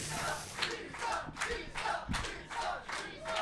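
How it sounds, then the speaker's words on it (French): A bloodthirsty crowd chants rhythmically outside a colosseum, loud massed voices rising and falling in regular surges of shouting, several beats over a few seconds. "Vous entendez une foule avide de sang à l'extérieur qui clame."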